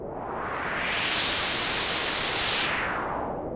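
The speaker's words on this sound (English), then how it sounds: "Now with resonance at 11 o'clock." White noise through an Electro-Smith 2144 four-pole low-pass filter with resonance set at 11 o'clock, a steady loud hiss with a slightly rounded, dulled top, holding evenly throughout.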